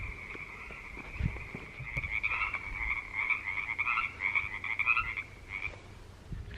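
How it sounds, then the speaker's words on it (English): A chorus of frogs croaks continuously outdoors near a beach on a warm, calm evening, a steady rasping trill at moderate distance, with light wind noise underneath. "let the frogs go back to croaking"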